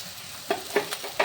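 Ginger paste hits hot oil in a pan and sizzles, with a few quick stirring scrapes coming in short bursts over a low, steady frying hiss; no voices.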